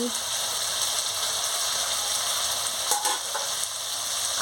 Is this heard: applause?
no